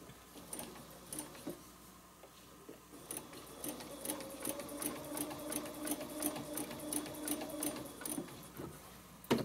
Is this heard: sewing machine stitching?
yes